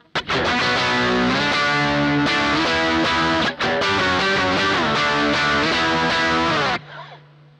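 Loud, heavily distorted electric guitar riffing steadily for nearly seven seconds in a thick saturated 'brown sound' tone, then cutting off abruptly to a low hum and fading ring.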